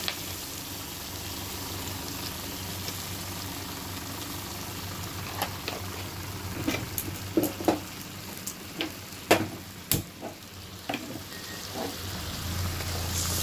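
A ground paste of chilli, turmeric and salt stir-fries in a pan with a soft, constant sizzle, joined midway by scattered scraping clicks from a spatula that grow more frequent toward the end.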